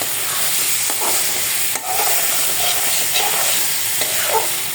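Shrimp from the Meghna river tossed into a hot pan with cumin paste and coriander powder while cooking country chicken, sizzling steadily with a few stirring scrapes, close and continuous.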